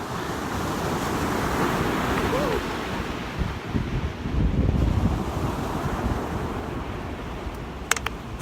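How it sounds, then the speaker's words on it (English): Surf breaks on a Gulf of Mexico beach in southwest Florida, a broad, washing roar mixed with heavy wind buffeting the microphone. Waves swell and fade around the middle, and faint voices can be heard. "This is the Gulf of Mexico behind me"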